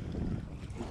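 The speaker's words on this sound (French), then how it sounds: "Là, il y a du vent" Steady wind rushes and buffets a microphone at a seaside port, a continuous low roar with gusty fluctuations and no voices.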